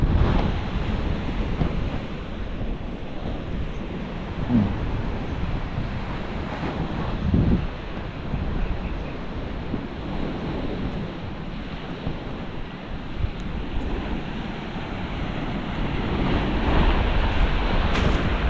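Ocean waves at high tide wash steadily against the shore of Mantigue Island near Camiguin, a continuous rolling surf roar with gusts of wind buffeting the microphone throughout and no talking.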